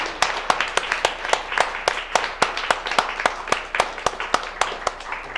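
An audience applauds at a live science talk with a steady patter of many hands clapping, punctuated by sharp, regular claps close by, continuing without a break.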